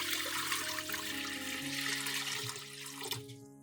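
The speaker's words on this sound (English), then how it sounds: "Now pour water into the pot." Water pours steadily into a cooking pot in a continuous splashing rush that stays close and fairly loud, easing slightly toward the end, with no voices.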